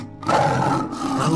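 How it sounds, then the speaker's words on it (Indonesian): A character lets out a loud, deep, rasping tiger-like roar that fills the whole moment, close and alone with no talking over it. "Kenapa Kisanjaya mengaum seperti aku?"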